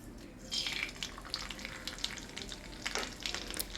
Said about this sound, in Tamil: கடுகு நல்லா பொரிஞ்சு வர வரைக்கும் வெயிட் பண்ணுங்கள்.